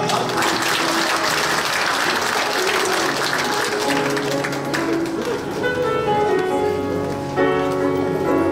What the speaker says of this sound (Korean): 네, 박수로 환영하겠습니다.